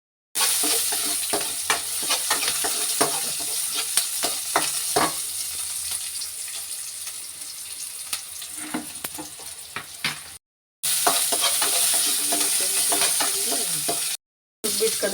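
Oil heating for tempering in a home kitchen while making a black fish curry, with a steady sizzle and frequent spoon-scraping clicks against the pan across the whole span, broken by two brief silent gaps.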